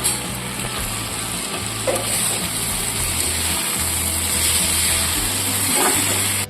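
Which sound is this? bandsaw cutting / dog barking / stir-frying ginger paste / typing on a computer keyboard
stir-frying ginger paste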